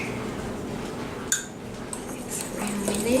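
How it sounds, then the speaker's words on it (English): A fork works through a melted cheese mixture in a bowl for a keto grilled cheese. Soft scraping runs under one sharp clink of metal on the bowl, with quieter stirring sounds after it, close up. "you want to make sure you stir this really well"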